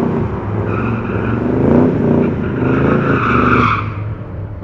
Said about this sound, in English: That's a pretty quick quarter. Newer model Camaro.